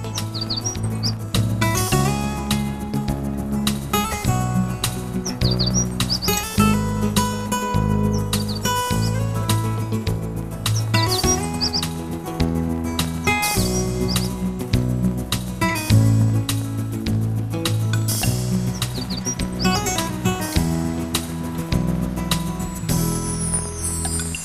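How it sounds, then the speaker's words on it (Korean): Mountain birds chirp and sing in a deep valley in Jeongseon, Gangwon-do, with scattered high tweets running throughout over a steady, full low background. "산새들 노래소리"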